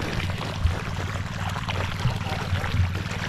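Water for irrigating calamansi plants flows out steadily in a soft, continuous rush with faint low thumps from a pump or engine underneath, fairly quiet and without speech.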